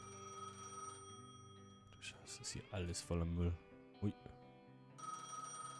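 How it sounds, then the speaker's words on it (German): A payphone rings at a gas station in the Gas Station Simulator video game, its steady electronic ring running under a man's speech and briefly carrying on alone at the start and end. "Nehmt den Anruf in der Telefonzelle entgegen."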